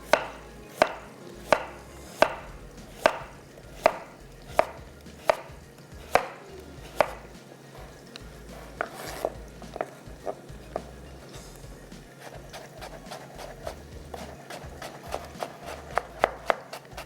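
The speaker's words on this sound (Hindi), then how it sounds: "गार्निश के लिए हमारे पास यहाँ पर है प्याज, इसको हमने करना है जुलियन।" A knife chops onion into julienne strips for garnish in a desi Balti gosht kitchen, giving a steady series of sharp, close taps on a board that grows denser and faster toward the end.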